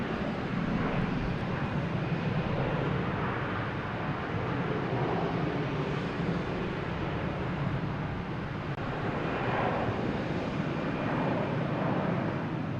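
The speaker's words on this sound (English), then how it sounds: "We have Aeromexico coming in from Mexico City on a Boeing 737." An Aeromexico Boeing 737 arriving from Mexico City at Logan Airport, heard as a steady, broad jet roar that holds for the whole stretch without any distinct events, like continuous engine noise close by.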